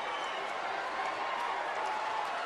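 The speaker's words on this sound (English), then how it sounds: "Listen to this crowd." A WWF wrestling arena crowd roars in a dense, continuous wash of noise at steady loudness, with no single voice standing out.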